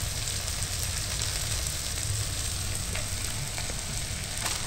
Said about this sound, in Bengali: মশলাটাকে একটু নাড়াচাড়া করে ভেজে নেব।